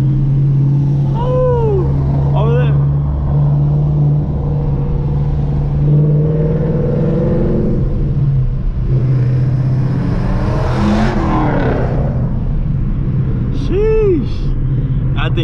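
A 2011 Camaro SS, whose engine starts knocking, races a 2018 Mustang. A loud, close engine rumble and whir swells and fades as the cars accelerate, with voices talking over it.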